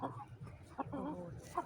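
A freshly caught hen gives a few short clucks and squawks close up, with faint low background noise.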